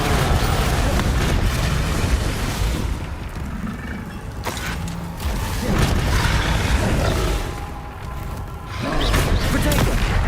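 Booming Confringo explosion spells cast in Hogwarts Legacy, several loud blasts and bursts in a dense combat mix, with voices speaking over the action.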